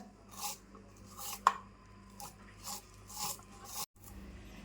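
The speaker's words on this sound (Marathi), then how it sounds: "कांदा ना असा मस्त बारीक कापून घ्यायचा" A knife finely chops onion on a board for a spicy tomato chutney. Several quiet, evenly spaced chopping strokes are heard alone, with no talking.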